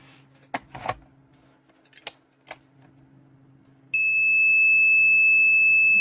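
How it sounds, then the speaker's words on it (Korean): A few light clicks and taps, then a steady high-pitched electronic buzzer tone from a faulty Keyang C18046A battery charger starts abruptly and holds continuously, loud and close. "이부저이 울리고요"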